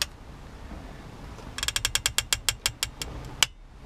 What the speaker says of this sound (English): Torque the rocker shaft bolts down to, we've got 15 foot-pounds, and now we're gonna go another 90 degrees.